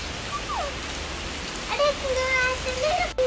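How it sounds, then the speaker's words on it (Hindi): Heavy rain pours down in a dense, steady hiss, with a voice speaking briefly over it partway through. "तेज हो गई। आज तो आनी ही थी बारिश।"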